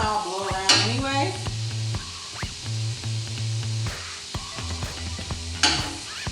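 Pepper bacon cooking in a Ninja Foodi air fryer, a steady close sizzle and crackle with occasional scraping and tonal hums from the appliance, no one talking.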